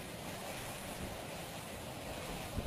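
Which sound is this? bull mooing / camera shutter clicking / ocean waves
ocean waves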